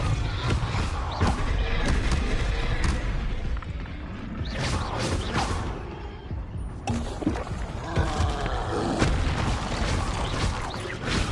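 Combat spells Expelliarmus, Confringo and Repulsor cast in Hogwarts Legacy on PS5, producing a dense, continuous barrage of crashes, booms and heavy thuds with scattered sharp bursts and no clear pauses.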